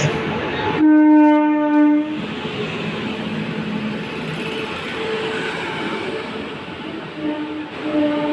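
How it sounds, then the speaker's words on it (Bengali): Radhikapur Express train in India, opening with a loud, close horn blast lasting about a second, followed by a continuous rumble of rolling carriages, and a fainter horn returning near the end. "এটি হলো রাধিকাপুর এক্সপ্রেস।"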